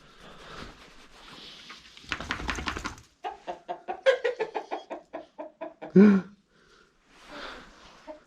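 A rooster crows nearby, a loud rising call, with clucking and a person talking quietly around it.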